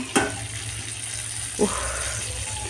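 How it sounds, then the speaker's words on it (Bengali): Eggplant slices frying in a home kitchen pan, a steady soft sizzle with a couple of brief clinks or stirs, fairly quiet and close. "বেগুনটা তোমাদের দাদাভাই ভাজতে পারে না তো তার জন্যে আমি ভেজে দিচ্ছি"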